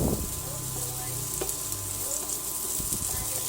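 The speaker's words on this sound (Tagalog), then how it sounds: "Magigisa po tayo ng sibuyas at bawang." Chopped onion and garlic sautéing in a pan for misua soup with bottle gourd, a loud, steady sizzle throughout with light stirring scrapes and no voice.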